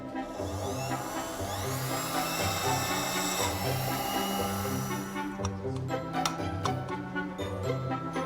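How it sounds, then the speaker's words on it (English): Holes being drilled into a wooden violin part: a close, steady motor whine with rhythmic grinding pulses as the bit works through the wood. "So I just need to drill some holes in this now,"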